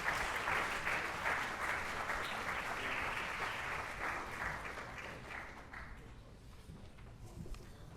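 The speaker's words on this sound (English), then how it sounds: "Let's give them a round of applause." Sustained audience applause at an athletic awards ceremony, a dense, steady wash of clapping that slowly thins and fades toward the end.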